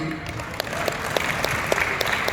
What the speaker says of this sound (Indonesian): Tepuk tangan untuk APLI.